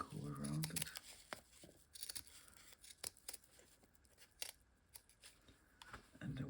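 Scissors snip through paper while cutting around a shape, a series of short crisp cuts close by and soft, mixed with light paper rustling and a voice talking at the start and end.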